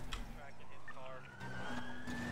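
A stolen car in the GTA roleplay game revs and drives, its engine pitch climbing steadily, with skidding tyres and a siren-like tone around it under a player's shouting voice.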